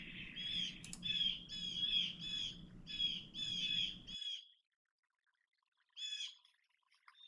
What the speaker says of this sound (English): now I have really clean bird songs available to me.